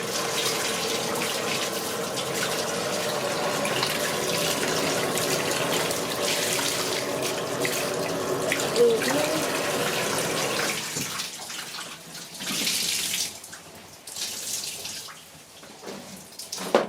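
Cold tap water runs steadily onto bleached clothes in a sink, rinsing them in a continuous splashing stream that thins out toward the end with some sloshing.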